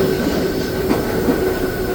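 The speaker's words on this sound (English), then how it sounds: "please remain seated until the train comes to a complete stop" Disneyland Railroad train rolling into a station, a steady loud rumble of wheels on rails with a faint squeal and light metallic clatter, no voices.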